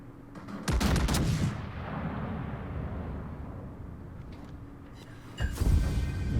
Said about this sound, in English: My secondaries are shooting at him, so my main guns can probably hit him.